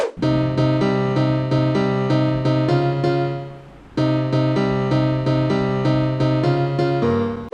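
A synth melody plays over a deep bass line in a steady repeating pattern, loud and close, pausing briefly around the middle before resuming.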